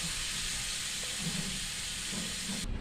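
Water poured into a hot pan of Bengali fish curry with pumpkin stems sends up a steady, loud hiss of steam that runs unbroken from start to finish, then cuts off abruptly near the end.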